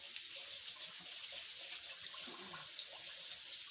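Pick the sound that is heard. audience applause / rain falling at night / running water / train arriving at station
running water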